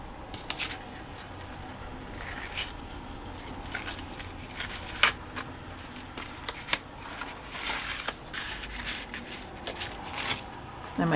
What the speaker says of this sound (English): So I'm gonna grab this little piece of green seam binding and wad it all up.